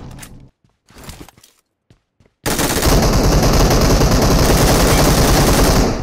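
Sustained automatic gunfire in PUBG Mobile, loud and close, a dense continuous burst that follows a few sparse clicks and quiet moments.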